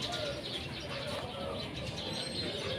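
Soft cooing of pigeons or doves mixed with scattered chirps over a steady, busy background hum; the birds sound fairly close and continuous.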